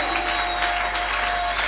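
A church congregation bursts into sustained applause, many hands clapping densely and evenly throughout, with a faint steady tone in the room.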